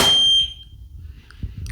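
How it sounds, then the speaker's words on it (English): A Miele WWD320 WCS washer dryer gives a single short, piercing electronic beep to signal the wash is finished, followed by near silence with faint room noise. "So it beeps around every 15 seconds or so."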